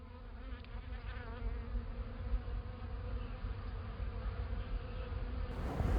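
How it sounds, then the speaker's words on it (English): Dense buzzing of many bees in a permaculture garden, a steady drone that holds throughout with slight swells, close and moderately loud, no voices. "We've got our very busy bees here"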